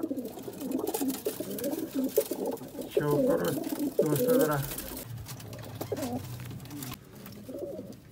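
Sialkoti pigeons coo in a loft, repeated throaty coos loud and close for several seconds, while someone talks over them before the cooing fades under his voice.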